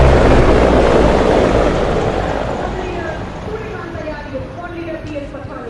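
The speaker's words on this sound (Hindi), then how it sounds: "The Mi-35, a highly maneuverable attack helicopter formation, is flying at a speed of 240 kilometers per hour" A formation of Mi-35 attack helicopters passes over a Republic Day parade at about 240 km/h with a loud, throbbing rotor roar that peaks at the start and then fades steadily as the aircraft move away.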